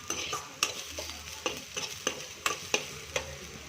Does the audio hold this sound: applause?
no